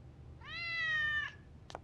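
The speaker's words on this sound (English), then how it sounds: "Oh, good kitty." A cat in the horror video game Fork Road gives a single clear, drawn-out meow, close and fairly loud over a quiet low hum, followed by a brief soft click.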